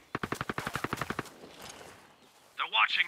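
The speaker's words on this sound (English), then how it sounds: "I hear gunfire." Automatic gunfire in the shooter game Tom Clancy's Ghost Recon Breakpoint: a rapid burst of about a dozen close, sharp shots, then a fading tail and a brief electronic voice-like tone.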